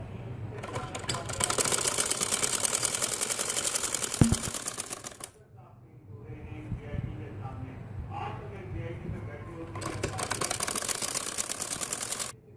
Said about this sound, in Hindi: हम एक पैर के वक्फे के साथ इसको सिलाई लगा लेंगे